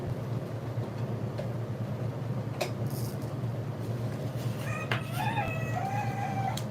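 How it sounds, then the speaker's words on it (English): Rooster crowing in the distance, a single faint crow rising over a steady low mechanical hum near the end, with a few scattered clicks before it. "And there's the rooster."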